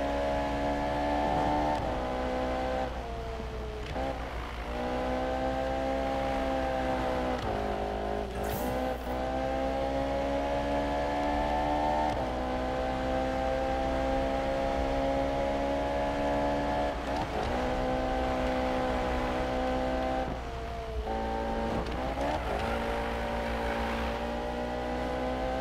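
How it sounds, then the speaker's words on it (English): A Ferrari in Need for Speed drifts with a sustained engine whine that rises and dips repeatedly as the throttle is worked, loud and continuous, with no talk over it. "Doing a little drifting on it, see if it's good at drifting or not."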